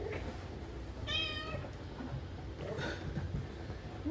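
A cat gives two clear meows about two seconds apart, close by but fairly soft over a steady background hum.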